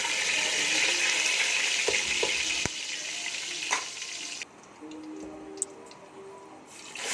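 Whole cinnamon, black cardamom and cloves sizzle in hot oil for chickpea and egg curry, a loud steady frying hiss that drops lower midway, with a few clinks and stirring knocks.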